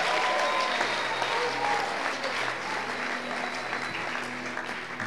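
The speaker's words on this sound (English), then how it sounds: "Come on, clap your hands," Congregation clapping hands at a Sunday rally of a church conference, a dense continuous applause filling the whole stretch at steady loudness.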